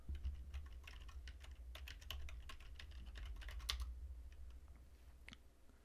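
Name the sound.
typing a password on a computer keyboard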